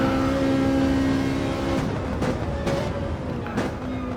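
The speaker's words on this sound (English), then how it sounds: "Now he's bringing the car down the hill and then back up the hill as they go around this sort of corner" Race car in an 18-lap circuit race running downhill and around a corner, engine note holding steady then dropping off as it passes, with sharp gear-change bursts, close and loud with no talking.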